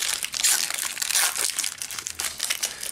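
Plastic packaging of a Pokémon Sun and Moon tripack being pried and torn open, a loud, close, continuous crinkling and crackling with sharp bursts, no voices.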